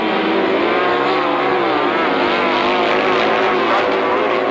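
Grasstrack racing motorcycles revving together at the start line of a 1993 meeting, a loud, continuous roar of several engines with fluctuating pitch and no pause.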